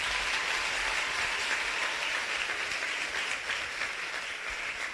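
High school students applaud Minister Desmond McKenzie at a rap session with the Prime Minister, a steady wash of many hands clapping at moderate distance, even and unbroken throughout.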